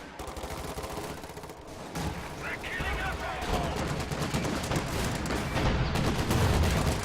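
Rapid bursts of .50 cal machine gun fire from a Company of Heroes 2 battle rattle on among other distant shots and booms. The gunfire plays under a dense, continuous game soundscape.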